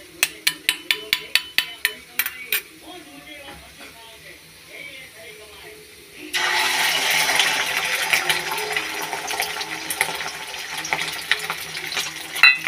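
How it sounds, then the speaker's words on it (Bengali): Egg toast is set to fry in a kitchen pan. A run of sharp clinking taps comes first, followed by a steady loud sizzle and hiss of frying that carries on to the end. "এখন একটা ডিম টোস্ট করে নেব ছোটো মেয়ের জন্য"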